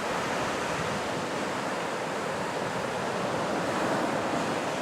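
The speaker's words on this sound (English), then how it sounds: "the wind's not too bad right now, but you see what it does with the wind" Steady wind roars and buffets the microphone outdoors while a Mavic 2 Zoom drone hovers, the broad rushing noise filling the whole clip at a constant level.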